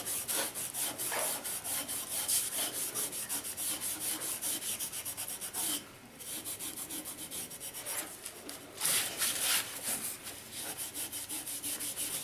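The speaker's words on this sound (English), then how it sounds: "And now I'm going to take non-woven abrasive," Non-woven abrasive pad rubbing over dried blue milk paint on a turned multi-axis disk vase, a steady rapid back-and-forth scrubbing with brief pauses, close and fairly quiet.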